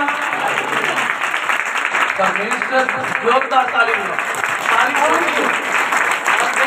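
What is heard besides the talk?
congregation applause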